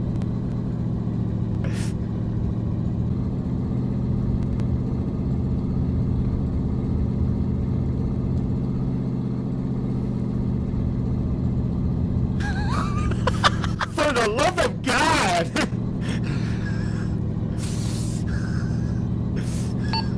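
A truck drives in the Arma 3 video game, its engine making a steady, low, droning rumble throughout, with a cluster of sharp clattering bursts near the end.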